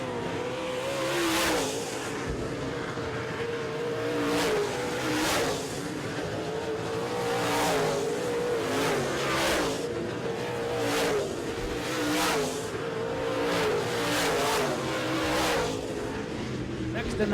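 Modified race cars roar around a track in a feature race, with a steady, loud engine drone and repeated swells as cars pass close by, continuous throughout.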